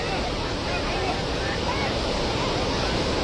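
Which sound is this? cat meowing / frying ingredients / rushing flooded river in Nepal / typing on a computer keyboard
rushing flooded river in Nepal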